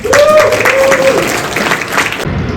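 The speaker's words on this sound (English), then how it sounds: "Without further ado, round of applause, Bianca and Chris." Crowd applause at Alton Towers during the Scarefest 2023 event, a short burst of clapping that begins at once alongside a voice, then carries on steadily and fairly loud to the end.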